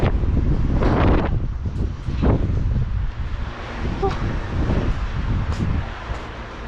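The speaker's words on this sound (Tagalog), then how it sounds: "Malakas na po yung hangin." Strong wind buffeting the microphone outdoors on a sunny, cold day near the sea, a continuous roaring gusty rush with occasional faint voices.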